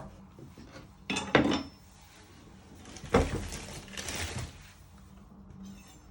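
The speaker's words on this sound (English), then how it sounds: "You first chop both of the ends off." A knife chopping the ends off courgettes on a board, two distinct bursts of clattering cuts separated by quiet, with faint kitchen handling noise between them.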